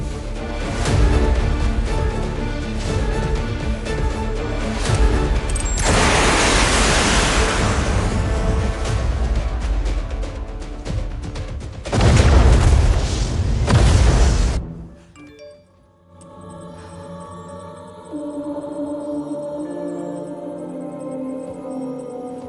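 A missile explosion: a loud, sustained roaring blast rumbles for several seconds, surges once more, then cuts off abruptly into quieter lingering tones.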